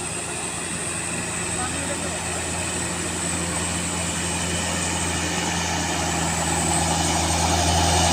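A heavy truck engine drones steadily nearby as it drives downhill, a continuous low rumble with faint hissing, growing slightly louder toward the end.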